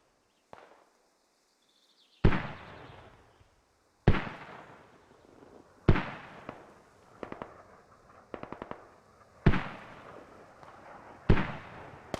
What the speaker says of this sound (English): Now we're using mortars against OK.